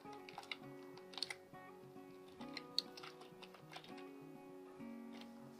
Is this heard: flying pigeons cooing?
no